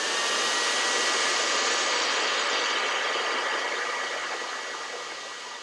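A hair dryer blows hot air onto a cut Ziploc baggie wrapped firmly around a fingernail, giving a steady, loud whooshing roar that fades slightly toward the end, with no talking.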